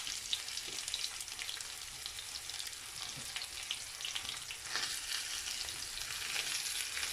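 Onion frying in a pan with garlic, a steady close sizzle and crackle running unbroken, with faint stirring scrapes and no voices.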